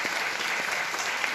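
A church congregation at a pastor's 20th ministry anniversary service claps in a brief, dense burst of applause, moderately distant.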